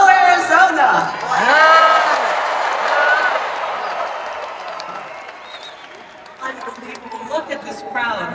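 Rally crowd in an arena in Glendale, Arizona, cheering, whooping and applauding loudly, with a voice talking over the noise as the roar fades and then swells again near the end.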